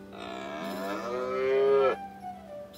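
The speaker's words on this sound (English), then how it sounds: "use a cowbell to find and defeat the farm cow" A farm cow in South Park: The Stick of Truth lets out one long, loud, close moo that rises and swells before cutting off. A low steady hum runs underneath, and no one speaks over it.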